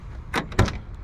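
The heavy door of a 1977 Pontiac Trans Am closes gently with a soft latch click and a short thud, heard close up and alone, without a hard slam.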